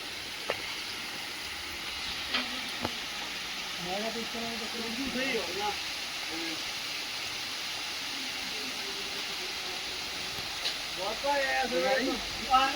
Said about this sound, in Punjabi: ਝਰਨੇ ਤੋਂ ਉੱਪਰੋਂ ਠੰਡੇ ਪਾਣੀ ਦਾ ਝਰਨਾ ਆ ਰਿਹਾ